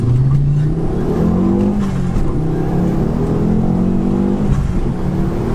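A tuned stage 2 Ford Focus ST hatchback engine revs up and down with a deep, loud exhaust roar, pitch rising and falling, heard close and continuous.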